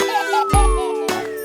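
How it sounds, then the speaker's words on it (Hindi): A bicycle bell dings inside a cheerful children's song, its bright chime sitting over sustained musical tones with a soft thump partway through. "घंटी बजती डिंग डिंग डिंग।"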